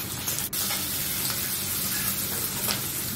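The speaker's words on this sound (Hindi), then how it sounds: "तेल गरम हो गया, इसमें जीरे का तड़का लगाना है, मिर्ची डालना है।" Cumin seeds, green chilies and onion sizzle in hot oil in a kadhai, giving a steady, close crackling hiss that runs unbroken throughout, with a brief stirring clink near the start.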